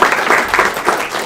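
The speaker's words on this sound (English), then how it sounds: "I'll let Christian know it's clapping" An audience at a school board meeting applauds in a steady, dense wash of clapping with gentle rhythmic swells, fairly loud and close.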